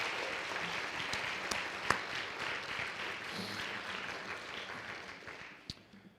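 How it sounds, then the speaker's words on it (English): Faculty members stand as an audience at a university research presentation competition claps for them, a steady wash of applause with a few sharper claps that fades out toward the end. "would you please stand so that we can applaud you and shower you with love"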